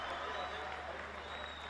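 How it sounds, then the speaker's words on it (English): Crowd applause at a cricket match between Peshawar and Abbottabad, a steady wash of distant clapping from the stands, faint and continuous. "Deserves all the applause there."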